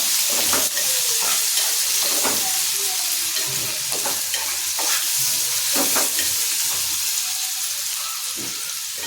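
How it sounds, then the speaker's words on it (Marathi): Onions frying in a pan of hot oil for a fish curry, a steady close sizzle broken by repeated stirring scrapes all the way through. "आता आपण यात कांदा टाकायचा आहे. कांदा छान त्याच्यात भाजून घ्यायचा."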